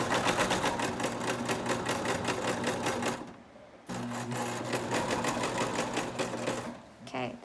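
A sewing machine stitches fleece mittens in fast, steady mechanical bursts, pausing briefly around the middle before running on again, loud and close with no talk over it.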